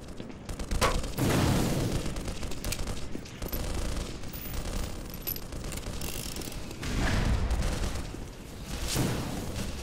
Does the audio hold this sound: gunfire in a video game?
yes